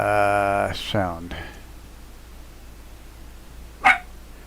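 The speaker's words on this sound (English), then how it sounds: "You're not going to sit there and fucking bark." A dog gives a loud, drawn-out bark that trails into a whine, followed by a shorter yip and, after a quiet pause, one more sharp bark.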